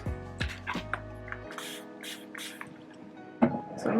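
A spray bottle mists water onto curly clip-in hair extensions in a few quick, close hissing bursts, with soft drips and squishy handling sounds between them.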